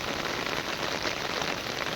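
Heavy rain pours steadily onto surfaces outdoors, a dense, even hiss with no pauses, loud and close throughout.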